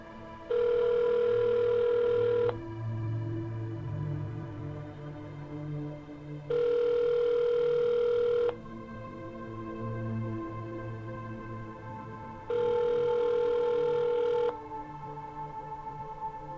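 A telephone rings three times on a recorded 1985 emergency call in Shasta County, each ring a loud steady two-second burst with long gaps between, over a low background hum and line noise.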